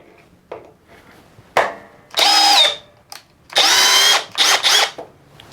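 A Hercules brushless hammer drill runs in drilling mode in several short, loud bursts of whirring motor noise, each spinning up and stopping, with quiet pauses between them.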